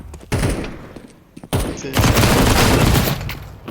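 Counter-Strike gunfire from a shotgun and an AK as players push into B site: a short burst, a pause with faint clicks, then sustained loud rapid fire and rattling shots to the end.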